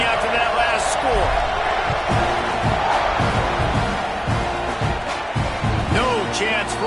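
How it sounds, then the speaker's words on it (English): A college football video game stadium crowd roars with a dense, steady buzz after a score, loud and continuous, while an announcer's commentary runs over it. "this crowd is buzzing after that last score"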